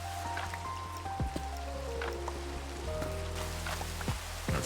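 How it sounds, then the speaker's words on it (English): Rain falls in Minecraft as a soft, steady patter with scattered drips, running under constant low game tones and short sliding notes, with no voices. "didn't really want the rain, but I guess we don't really have a choice."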